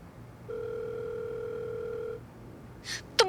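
A telephone in a Hindi TV drama gives a single steady electronic tone lasting under two seconds. Brief faint clatter follows at the end.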